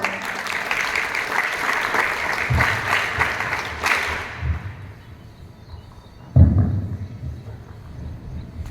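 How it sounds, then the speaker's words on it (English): A crowd applauds steadily for about four seconds at a school International Yoga Day event, then the clapping fades out, leaving low background noise and a few thumps. "Let's welcome them with a big round of applause."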